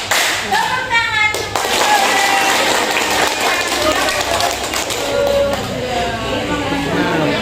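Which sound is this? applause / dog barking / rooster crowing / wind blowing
applause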